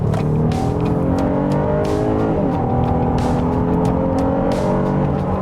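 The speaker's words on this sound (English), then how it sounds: "I'm going to put it in sport mode and give it some gas" A 2024 Honda Ridgeline TrailSport pickup in sport mode accelerates hard on a freeway, its engine note climbing steadily through the gears with one brief shift dip, loud and continuous against road and wind noise, no talking.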